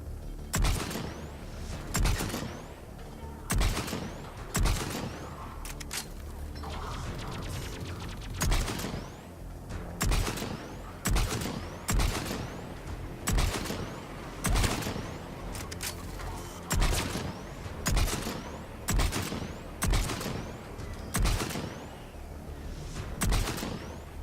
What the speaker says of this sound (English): Those first couple of shots were like really good shots